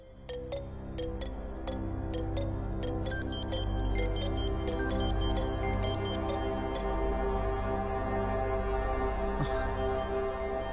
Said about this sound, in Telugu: Phone ring అవుతుందేంటి?